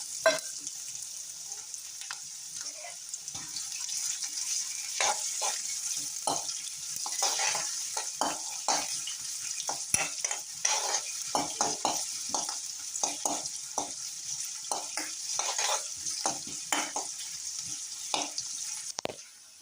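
Chopped ginger fries in coconut oil with a bright, steady sizzle, while frequent scraping stir strokes tap and rasp against the pan. The sound is close and continuous, with no voices.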